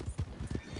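Horse hooves clip-clopping in Red Dead Redemption 2, a quick run of close, loud thuds in an uneven trotting rhythm with no speech.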